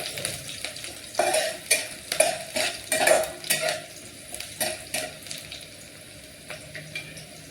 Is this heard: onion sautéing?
yes